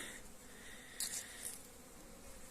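Carpathian honey bees fly around the hives of an outdoor apiary, a faint, steady buzzing drone with a few slightly closer passes.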